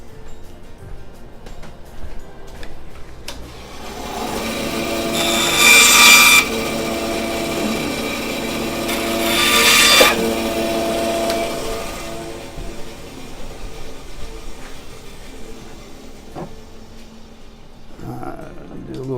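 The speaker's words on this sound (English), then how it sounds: "I'm going to chop these wings off in the bandsaw real quick" A bandsaw cuts through the wooden wings of a vihuela in two loud bursts of rasping, whining sawing, with the motor humming before, between and after the cuts.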